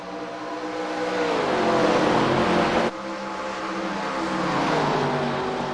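Race cars roar as they accelerate on a green flag restart at an All Star Open event, engines climbing in pitch through the gears, loud and sustained with a brief shift dip midway.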